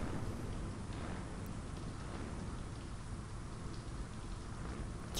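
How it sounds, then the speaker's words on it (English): Steady, close rain in the SWAT 4 video game, a dense even hiss that holds at constant loudness through the whole stretch, with no voices over it. "It's raining."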